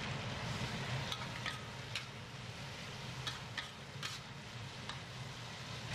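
Green and red pepper strips, onion and mung bean sprouts being stir-fried in a wok, with a steady sizzle under the occasional scrape and tap of the spatula, close and continuous.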